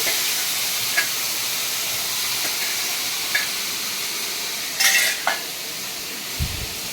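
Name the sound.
eggplant dal (begun dal) cooking in a pot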